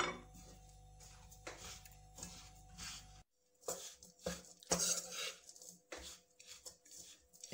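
Nuts and fennel seeds lightly fried in a pan over low heat, heard as steady clinking and scraping of a utensil against the pan, with a brief pause before the stirring resumes close by.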